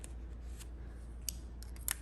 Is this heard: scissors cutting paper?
yes